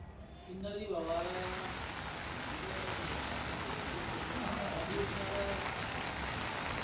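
Heavy monsoon rain falls in Jaipur as a dense, steady hiss that starts after a brief voice and keeps going at an even, loud level.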